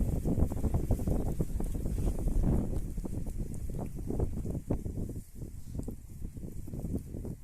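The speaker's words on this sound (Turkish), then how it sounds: "Bugün baya bir rüzgar geliyor arkadaşlar." Strong, steady wind buffeting the microphone, a continuous low roar with gusty fluctuations throughout and no voices.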